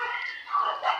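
A dog in a park in the afternoon gives short, high, whiny yips and barks, close and moderately loud, with no talking.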